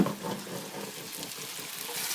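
Onions, celery and carrot sizzling in a pot, a close, steady crackling fry with soft stirring scrapes and no talk.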